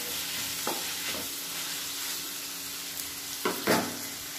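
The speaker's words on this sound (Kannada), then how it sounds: "ಹಾಕ್ಬಿಟ್ಟು ಚೆನ್ನಾಗಿ ಮಿಕ್ಸ್ ಮಾಡ್ಕೋಬೇಕು." Onion palya with jaggery sizzles steadily in a pan as it is stirred, with continuous close frying hiss and a few sharp scraping stirs near the end, no talking.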